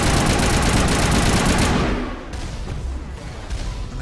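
Rapid automatic weapon fire from an enemy in the Mass Effect video game, a dense loud burst that cuts off midway and gives way to quieter scattered shots and rumble.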